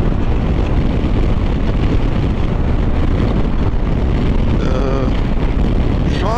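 Loud, steady wind roar buffets the microphone nonstop while riding a KYMCO DTX 360 maxi scooter, with a faint engine drone underneath.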